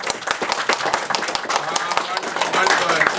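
Dense clapping from a magic show audience at the Magic Castle fills a short stretch, steady and fairly loud with sharp individual claps, mixed with crowd voices.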